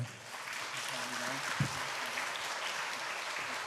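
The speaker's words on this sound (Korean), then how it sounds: "목사님께 박수 한 번만" A church youth-service audience gives the pastor a short round of applause, moderate clapping lasting a few seconds with a voice speaking briefly over it.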